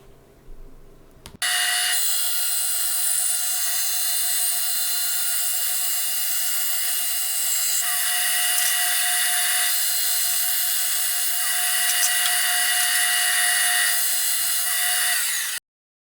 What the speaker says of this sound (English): I drew up a template on some MDF and cut it out on the bandsaw.